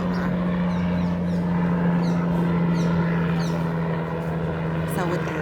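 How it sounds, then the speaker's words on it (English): A helicopter passes directly overhead, its low steady rotor and engine drone filling the background continuously and fairly loud throughout. "There is a helicopter going right over, directly over"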